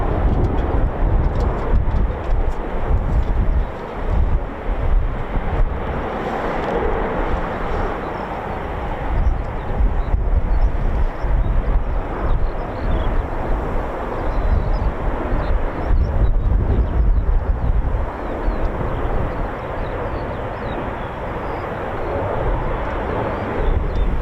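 Eurofighter Typhoon jet taxiing at RAF Coningsby, a steady loud broadband engine roar and whine that holds throughout with slight swells, close and continuous with no talk.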